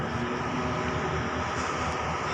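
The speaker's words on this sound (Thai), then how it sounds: "โอ้โหเสียงเครื่องมันเย้ายวนใจซะเหลือเกิน" A Thai express train's diesel locomotive, QSY 5229, rumbles steadily and fairly loudly while stopped at Chum Saeng station, a continuous low drone with a faint mechanical hum and no voices.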